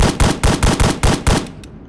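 An SVD-S rifle in the Roblox shooter BRM5 fires six loud, evenly spaced shots in quick succession, then the last report fades with a faint click.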